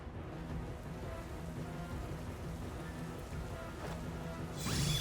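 Steady rainfall from the Rain Dance move in a Pokémon Scarlet ranked battle hisses evenly throughout, with a brighter whooshing swell near the end.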